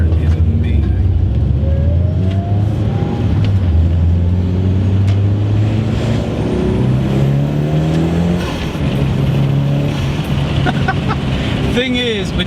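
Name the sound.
Mitsubishi Evo engine with straight pipe exhaust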